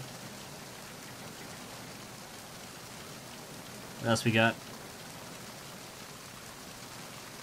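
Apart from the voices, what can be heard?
rain and water effects in Metal Gear Solid 2 video game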